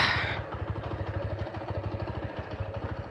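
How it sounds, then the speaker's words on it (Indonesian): A Honda Mega Pro Primus motorcycle with a weak, poorly tuned carburetor idles nearby, its engine pulsing in an uneven, wavering rhythm after a brief louder burst at the start. "ini motor suara mesinnya nggak stabil aja sih. Ini ada satu unit Mega Pro Primus dari Semarang."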